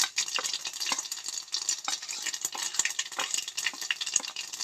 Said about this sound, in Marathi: सगळ्यात पयलीं हांगसर आमी आमाड्यांक फोडणी मारून घेतली.